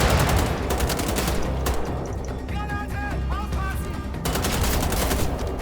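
Gunfire aimed at Nazis in the video game Wolfenstein The Old Blood, a loud, continuous rattle of close automatic fire with a brief lull and short tonal effects midway before the shooting resumes.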